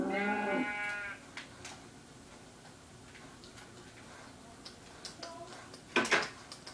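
A sheep on a farm gives a loud, close bleat at the start, followed by quieter shuffling and ticking sounds, then a second bleat near the end.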